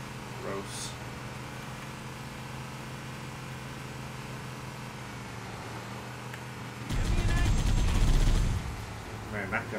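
Gunfire from a weapon in the Halo video game cracks out as a loud burst of repeated shots near the end, rising over a steady low ambient hum.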